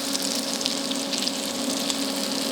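A crab cake sizzling steadily in a small pan after being flipped, a continuous close, even frying hiss with a faint tonal hum beneath and no talking.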